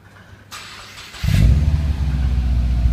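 Subaru Forester MY10–12 with an MRT XC exhaust kit and twin rear mufflers cranks over briefly, then fires into a loud, close, throaty idle that holds steady.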